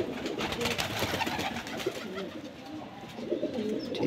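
A Teddy pigeon coos close by, soft throaty repeated calls over a steady background murmur, with no clear speech.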